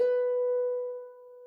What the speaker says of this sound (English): B natural sounds like this,